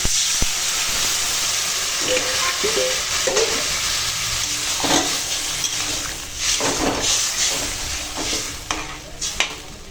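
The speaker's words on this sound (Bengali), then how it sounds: "এখন মশলার সঙ্গে আনাজ কষানো হয়ে গেছে দিয়ে দেবো জল" Water goes into vegetables frying with spices in a pan, producing a loud hissing sizzle with repeated stirring scrapes and bursts of steam throughout, close by and without speech.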